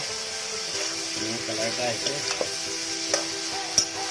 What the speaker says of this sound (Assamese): আমি অলপ পানী দি হাঁহৰ মাংসটো ভাজি থাকিব